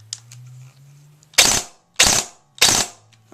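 A G&D DTW airsoft gun fires three short, sharp, rattling bursts on full auto, each only a fraction of a second, after a low motor hum at close range.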